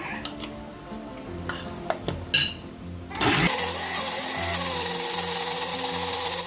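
A kitchen mixer grinder grinds soaked urad dal into batter. The motor starts abruptly partway in, after a few light clinks, and then runs as a loud steady whir until the end.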